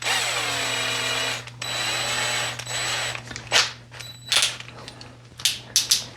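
A power drill whirs in steady stretches, stopping and restarting, while working a tuning peg hole on a guitar headstock; it is followed by short clicks and taps of handling close by.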